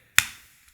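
A single sharp snap as an Insta360 One R camera mount clip locks into place, close and crisp, with a short decaying tail and a faint tick just after.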